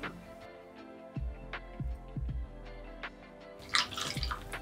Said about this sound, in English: we're going to just use a funnel and put some of the rose water into here.